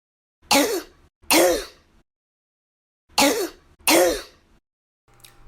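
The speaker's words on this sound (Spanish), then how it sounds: "Esta última se llama también tos perruna porque tiene un sonido ronco característico" Two pairs of harsh, hoarse barking coughs, the croup-like kind, each pair quick and close together with a pause between, loud and near, followed by a faint click.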